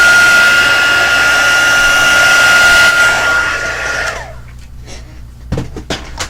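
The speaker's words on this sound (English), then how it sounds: "Trying to get my fingers out of the way of the heat gun." A heat gun blows a loud, steady hot-air roar while embossing powder is melted on a leaf design, then switches off around four seconds in, leaving quiet handling clicks and small knocks.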